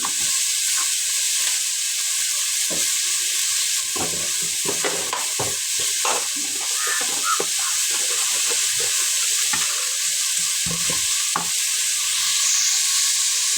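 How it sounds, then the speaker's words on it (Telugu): Onions fry in a pan for chicken curry while being stirred, a constant sizzling hiss broken by irregular scraping knocks of the spoon, close and without talk. "రుచికి సరిపడా సాల్ట్ ఆనియన్స్ అడుగంటకుండా ఇలా మధ్యలో కలుపుతూ ఉండాలి"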